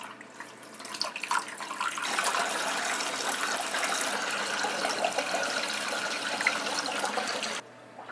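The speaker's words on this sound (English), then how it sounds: "put some water in here" Water gushes and splashes into a new 40-gallon reef aquarium build, a continuous rushing pour that starts softly, swells to a steady flow, then cuts off abruptly near the end.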